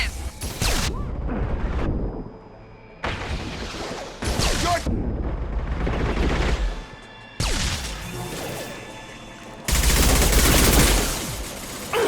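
Shotgun blasts and heavy gunfire in Mass Effect 2 combat, several loud bursts separated by brief gaps, with crashing impacts.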